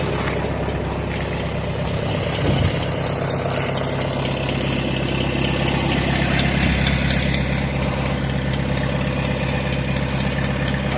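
A John Deere 3010 diesel tractor idles steadily and close by, a continuous low chugging rumble that holds an even pace throughout with no voices.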